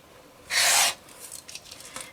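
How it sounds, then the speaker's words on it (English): A single loud, close swish-cut of about half a second as a fabric quilt background square is sliced diagonally corner to corner, then faint rustling of the cloth. "I'm going to take these 2 background squares and I'm going to cut them diagonally from corner to corner."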